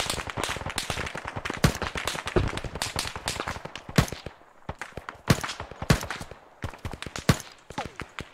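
In the Arma 3 video game, a frag grenade blast mixes with heavy gunfire: a dense, irregular volley of sharp cracks and bangs, some close and loud, others more distant, continuing throughout.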